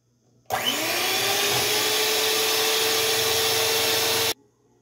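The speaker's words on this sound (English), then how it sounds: "now, like I said, I'm going to use my mixer, and I'm going to beat it for 5 minutes." Electric hand mixer beating cooled three-ingredient brown sugar fudge, a steady loud motor whine with a rising pitch at start-up, running continuously for about four seconds before cutting off.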